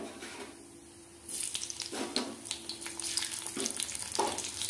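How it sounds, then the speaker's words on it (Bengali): Onion fries in hot oil with cumin seeds, hissing steadily and growing louder after it is added, with a few stirring scrapes. "পেঁয়াজটা একটু লাল লাল করে ভেজে নেব"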